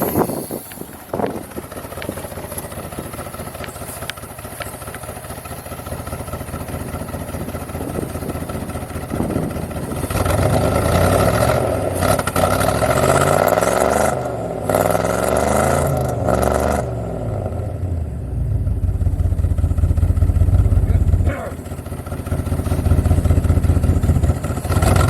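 Rover P6 estate V8 with a manual gearbox running close by, its engine rumbling and clattering with several louder rises in revs over the second half.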